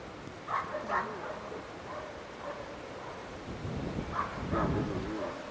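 A dog at a 1997 IPO working-dog competition barks a few times, two barks early and another pair later, somewhat distant over a rumbling outdoor background with faint voices.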